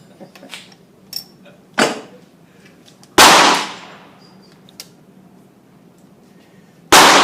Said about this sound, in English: this is first time for Cary shooting this rifle